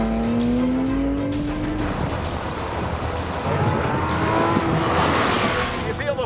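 A 1973 Porsche Carrera RS 2.7 drives hard, its engine droning loudly and steadily and rising in pitch through the gears, with faint tire noise underneath and no talk over it.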